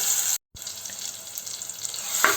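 Crushed ginger, green chili, garlic and shallots sauté in a pan, making a steady bright sizzle with a short break and light stirring scrapes.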